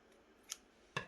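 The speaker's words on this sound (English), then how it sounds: "might just cut a little bit right there" Scissors snipping paper while making a Dollar Tree ornament, two quiet crisp cuts about half a second apart in an otherwise hushed room.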